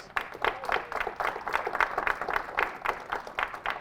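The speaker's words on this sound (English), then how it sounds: "Let's give her a round of applause." Scattered clapping from a small group at a college talk, uneven and moderately close, lasting a few seconds with no talking over it.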